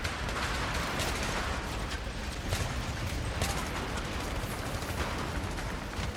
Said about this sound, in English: The autocannon rounds even pierce the platform itself